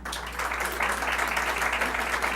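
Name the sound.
audience applause for teachers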